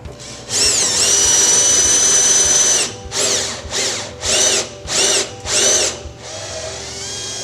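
A power drill boring standoff holes for a Plexi space guard on an elevator hoistway door: a long high-pitched whine, then four short spinning bursts that rise and fall in pitch, close and loud.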